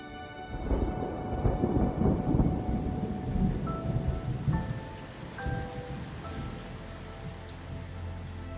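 Autumn rain falling with thunder, a low rumbling roll that builds and fades over steady pattering rain, followed by quieter sustained tones near the end.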